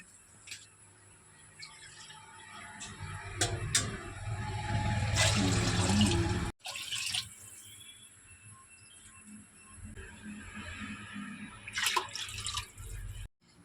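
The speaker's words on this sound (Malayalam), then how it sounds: "ഇത് നിറച്ച് വെള്ളം നമ്മൾ ഒഴിച്ചു കൊടുത്തിട്ടുണ്ട്." Water pours into a pot of raw rice for Kerala-style porridge, a sustained splashing gush at close range followed by drips and light clinks, with bird calls faint in the background.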